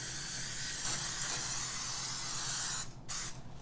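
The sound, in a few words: cooking spray sprayed into a baking pan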